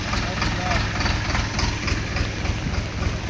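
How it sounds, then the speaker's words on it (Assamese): A tractor engine idles with a steady low chugging rumble that stays constant, and voices can be heard faintly over it. "আৰু এইফালে ট্ৰেক্টৰো আহি পালে"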